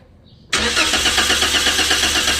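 A Toyota Avanza engine, checked for a stalling problem, cranks and catches abruptly, then settles into a loud, steady rumbling idle close by.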